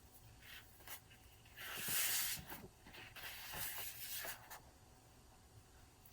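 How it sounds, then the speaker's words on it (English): Pages of a wallpaper sample book being turned, giving soft papery swishes and rustles, one fuller sweep in the middle among lighter brushing sounds, close and quiet. "Probably getting a little swishing sound, but that's with the wallpaper."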